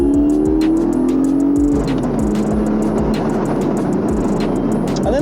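Porsche 718 GTS 4.0 accelerating hard, a loud near engine note rising in pitch then dropping at a gear change before climbing again under heavy throttle, with clicking and rumbling from the cabin.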